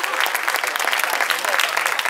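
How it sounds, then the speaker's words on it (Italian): Spontaneous applause from an Italian festive gathering, a dense steady burst of many hands clapping at once, loud and close, continuing without a break and with no voices over it. "un applauso spontaneo"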